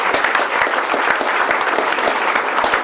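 A crowd applauds Nancy at the opening of the SSTAR South End Clinic, dense, steady clapping from many hands, close and loud, holding evenly for the whole stretch.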